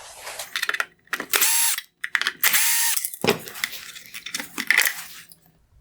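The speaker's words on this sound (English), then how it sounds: "Now I will remove the 2 Phillips head screws holding the ballast in place." Two Phillips screws come out of a 2016-2018 Lexus ES350 LED headlight ballast. Close, sharp bursts of a whirring driver mix with clicks and small metallic handling noises, and no one speaks.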